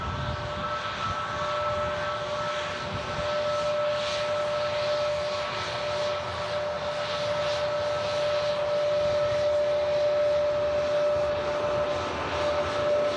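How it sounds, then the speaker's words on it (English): Air Transat Airbus A321neo at Manchester Airport, a steady broadband engine roar with a faint whine, held at an even level throughout as if idling or taxiing nearby. "Air Transat 321 Neo. Long ranged."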